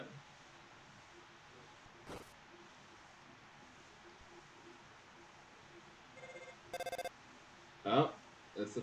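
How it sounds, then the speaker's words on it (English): A telephone rings in the video game Deltarune: one short, sharp electronic ring pulses near the end, over a steady low background hum. "oh, that's the phone."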